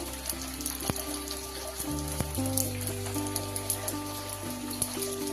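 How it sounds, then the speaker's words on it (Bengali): Phuchka puris fry in a small amount of hot oil, puffing up, giving a steady soft sizzle and crackle throughout. A faint constant hum and tonal background runs underneath. "যে তেলটা প্রথমে দিয়েছিলাম সেইটাতেই ভাজা হচ্ছে।"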